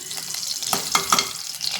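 Soft, steady sizzling of butter melting in oil in a hot pressure cooker, with a few brief crackles and pops, close up and without talk.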